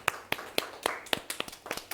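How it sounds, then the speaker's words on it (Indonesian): A small class applauds a classmate who has just presented in a biology session, with a short run of sparse, uneven hand claps close by. "Boleh tepuk tangan dulu untuk temannya."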